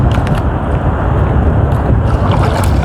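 A boat's engine drones loudly and steadily, straining against headwind and current, while wind and water rush against the hull in a dense, constant roar.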